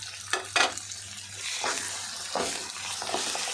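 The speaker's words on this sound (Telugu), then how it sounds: "ఇప్పుడు అల్లం వెల్లుల్లి పేస్ట్ వేసేద్దాం." Ginger garlic paste sizzles steadily in a pan for chicken fry, a close continuous hiss broken by a few stirring scrapes and spatters, with no talking.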